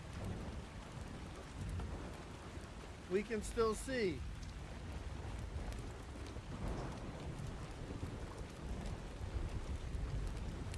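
Steady rain and storm ambience in the video game ARK on the reforged Island map, a constant wash of rainfall with a brief louder rumble partway through, while a person talks over it.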